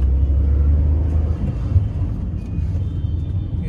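A Maruti Alto K10 car engine accelerates while driving, giving a steady, loud low rumble with road noise that holds throughout without a break.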